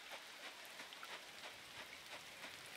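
Steady rainfall in the farming game Coral Island, a constant soft hiss of drops that stays even throughout, with no talking.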